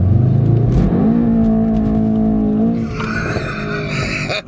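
A Mercedes-AMG E63 S wagon, 602 hp, switched to rear-wheel drive with no traction control, drifting on a wet racetrack: a loud, close engine rises in pitch and revs hard, with tire skid noise running alongside and the tone shifting near the end.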